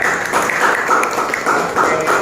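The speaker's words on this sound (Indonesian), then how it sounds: "tepuk tangan untuk Anda" Applause for a presenter at an Indonesian teachers' academic supervision session, a continuous moderate clapping wash from a small group with no pauses.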